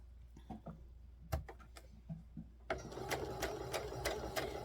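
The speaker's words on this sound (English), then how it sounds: "we're going to sew up the back and around the neck and down the other side using a 1/4 inch seam" A sewing machine stitches a quarter-inch seam on a small doll dress, starting with a few slow isolated clicks, then running up into a steady rapid close-up whir with regular ticking.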